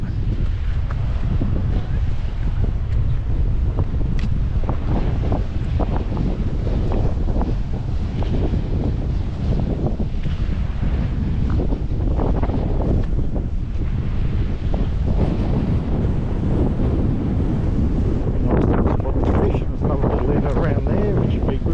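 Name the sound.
wind blowing at the beach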